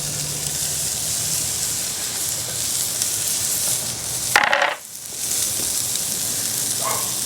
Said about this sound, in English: You can hear the nice sizzle there.